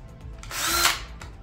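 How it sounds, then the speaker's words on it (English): Power drill on its lowest torque setting driving bolts into a standing desk frame during assembly, one close whirring burst that swells and fades over about half a second, with quiet handling noise around it. "And I'm going to set my drill on the lightest"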